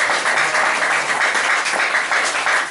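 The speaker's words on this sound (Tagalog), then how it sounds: "Isang malakas na palakpak sa just for life" A church congregation breaks into loud, dense applause that continues evenly without letting up, a close and full sound with no talking over it.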